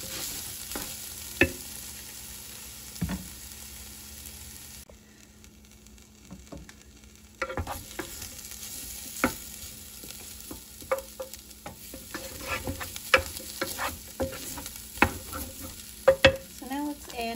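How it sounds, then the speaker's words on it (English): Beef browning in a hot pan at the start of a homemade beef barley vegetable soup, with a steady close sizzle, scraping stir strokes and ticks that drop away briefly in the middle before resuming. "You're going to brown your meat."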